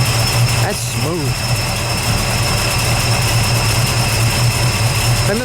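A 1967 Chevrolet Camaro RS SS 350 with a 4-speed idles with a steady, smooth low rumble throughout, while people talk nearby over it.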